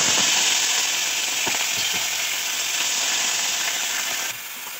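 Cumin, ginger and ground spices sizzle steadily in hot oil in a pan for a soybean curry, a loud continuous hiss with a few soft stirring clicks, and it drops a little quieter near the end.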